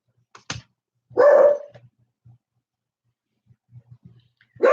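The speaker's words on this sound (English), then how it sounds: "I think my dog is barking because he can" A dog gives a few short, sharp barks indoors, separated by quiet gaps with faint small knocks, fairly close and not masked by talk.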